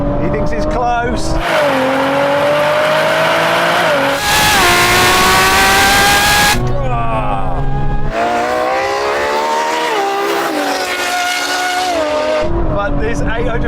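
Nissan GT-R NISMO and Ferrari 812 race hard, engines roaring loud and close with rising revs, gear changes and tire squeal from wheel spin, the note dropping briefly between bursts of acceleration.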